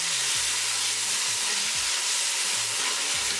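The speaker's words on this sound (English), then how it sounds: "Mix it well." Tomatoes frying with a browned onion tadka for pork back ribs, a steady loud sizzle with occasional low scraping stir strokes beneath it and no voices.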